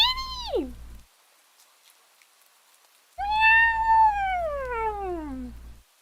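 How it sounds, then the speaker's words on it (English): A cat meows twice on a quiet street, a short falling cry followed after a pause by a longer, drawn-out meow, close and clear with a low hum beneath. "It's a kitty!"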